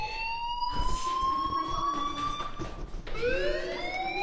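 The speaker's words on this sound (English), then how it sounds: "do you hear that fire alarm?" A fire alarm rings in the video game Life is Strange, a steady electronic tone with layered harmonics that holds, breaks off near three seconds, then resumes with a rising sweep, loud and continuous with no talking.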